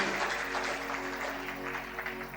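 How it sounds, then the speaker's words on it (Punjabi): Faint clapping from a congregation during a Punjabi Christian sermon, a soft, continuous patter of many hands heard from a distance with no voices over it. "ਤਾਲੀ ਮਾਰੀਏ ਜ਼ੋਰ ਦੇ ਨਾਲ"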